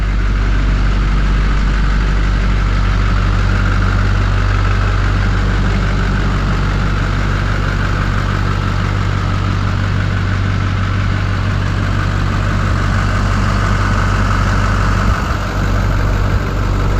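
A Duramax diesel swapped into a K20 truck idles close and loud, a steady deep rumble with a constant low drone that keeps going unbroken throughout.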